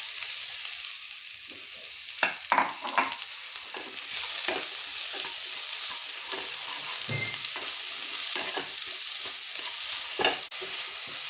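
Chopped onions, about a cup, frying on low flame for egg curry while being stirred, a steady soft sizzle broken by repeated close scraping strokes of a spoon against the pan.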